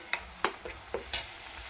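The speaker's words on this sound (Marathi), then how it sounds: "चांगला बारीक गॅसवरती खमंग भाजून घेऊ आपण हा तेलामध्ये।" Masala frying in oil in a pan over a low gas flame for a home-style matki and potato bhaji, with a soft background sizzle broken by a few sharp scraping stir strokes.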